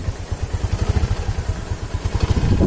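A motorcycle engine revs with the throttle, a rapid low pulsing chug that rises and swells slightly toward the end, close and fairly loud.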